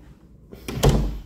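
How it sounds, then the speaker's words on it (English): An interior door into the master bathroom of a three-bedroom house opens with a short, close thud and rattle, followed by a brief swell of room noise. "it's a door that opens up into the"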